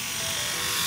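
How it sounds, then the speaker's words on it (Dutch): A Philips Series 7000 electric shaver buzzes as it switches on, a steady close-up motor whir holding for under a second. "Zet scheerapparaat aan om te beginnen."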